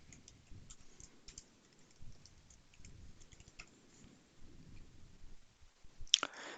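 Fingers typing a password on a computer keyboard, light scattered key clicks at close range with short pauses, ending in a sharper burst of clicks.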